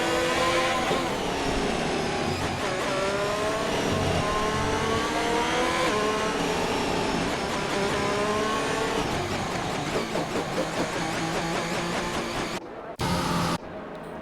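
Formula 1 cars racing on track in an esports video game, including a Red Bull and a Ferrari: loud, continuous high-revving engine whine with rising and falling pitch as gears shift, several cars overlapping, with commentators talking over it.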